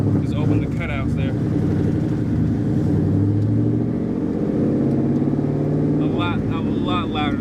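Twin-turbo 1987 Fox-body car driving with its exhaust cutouts open, a loud, raw engine drone rising and falling continuously throughout, with people talking over it near the start and end.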